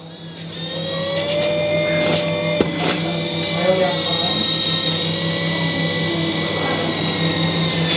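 A 1/14-scale RC John Deere E400 hydraulic excavator with 3+1 valves raises its chassis, its hydraulic pump giving a steady whine and hum that holds throughout, with a few brief clicks and shifts in pitch along the way.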